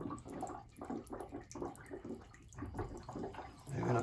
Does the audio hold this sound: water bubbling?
yes